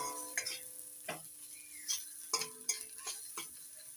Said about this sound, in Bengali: মশলা ততক্ষণ কষিয়ে নেব যতক্ষণ না মশলা থেকে তেল ছেড়ে দিচ্ছে।